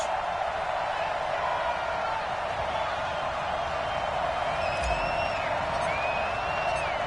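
Stadium crowd noise in an EA Sports NFL video game at Denver, a steady, dense roar of distant cheering with faint whistles, continuous throughout.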